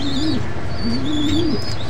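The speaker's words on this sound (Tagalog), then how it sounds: "Si Old Line Red natin ay foundation bird natin yan guys" A Belgian x Tournier racing pigeon coos close by, two low warbling rolls over a steady background hum with faint high chirps from other birds.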